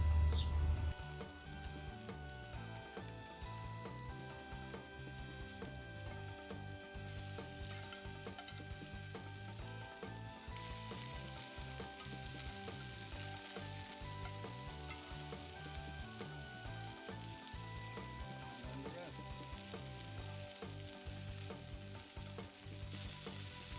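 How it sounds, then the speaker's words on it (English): Cauliflower browns in a pan over a small propane camping burner, giving a loud, continuous sizzle and crackle that runs unbroken, with a faint steady hum beneath. "I'm gonna start off with the cauliflower and just start browning them a little bit."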